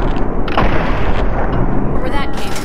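Gunfire and blasts in Fallout 3 during a VATS targeting sequence, dense and continuous at close range, with explosive, artillery-like booms running throughout under a steady game soundscape.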